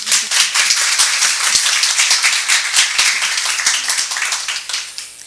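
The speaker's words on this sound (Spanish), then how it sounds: "para quien pido un fuerte aplauso" Loud, dense applause from an academic audience at a university humanities forum in Lagos de Moreno, sustained clapping throughout that gradually thins toward the end.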